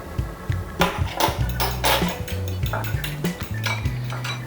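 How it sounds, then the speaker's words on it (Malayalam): Eggs being beaten with a pinch of salt in a bowl for egg fried rice, a steady run of quick clinking strokes of utensil against the bowl, fairly close and alone, with a few louder knocks. "ഈ മുട്ട നമുക്കൊന്ന് ശകലം സോൾട്ട് ചേർത്ത് ബീറ്റ് ചെയ്തെടുക്കാവേ"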